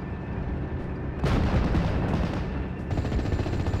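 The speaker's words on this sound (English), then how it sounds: "What I'm going to do is mortar both of them." Mortar fire in the WWII strategy game Steel Division: Normandy 44: a rumbling background of battle, then a heavy booming burst of fire that lingers, with more rolling gunfire after it, loud and without speech.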